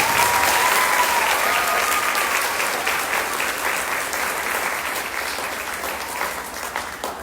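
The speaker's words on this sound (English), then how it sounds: "let's go ahead and give them one big round of applause" At the Jackson Apple Festival Queen's Contest, the crowd gives the contestants a big round of applause, a loud, even clatter of clapping that gradually tapers off over several seconds.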